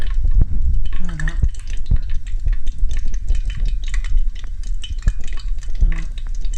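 Corn and banana fritter batter goes into hot oil, giving a low bubbling fry under scattered utensil clinks and scrapes, close and moderately loud throughout.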